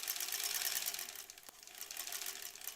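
A sewing machine joins two granny square quilt pieces along a seam with a soft, fast buzzing whir, quiet and continuous apart from a brief click midway.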